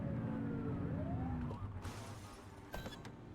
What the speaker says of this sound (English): Get behind them and flip the siren and make them pull over.